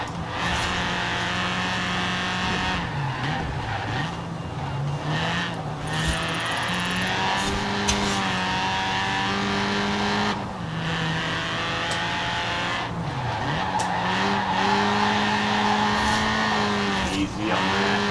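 An engine drones and revs continuously throughout a Forza Horizon 4 touge race, pitch rising and dipping with gear changes, and a brief tire squeal appears as the car slides through corners.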